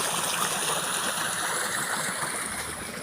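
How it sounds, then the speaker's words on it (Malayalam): A small waterfall pours beside a roadside field, a steady close rush of flowing water with splashing texture, continuous and fairly loud with no talking. "വെള്ളച്ചാട്ടമൊക്കെയാണ്"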